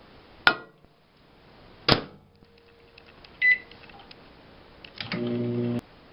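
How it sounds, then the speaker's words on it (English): Microwave oven heating about a cup of water: a couple of sharp clunks from the door and buttons, a short beep, then a steady low hum rising as the oven starts running, close by with no talk. "I'm going to go ahead and microwave that up."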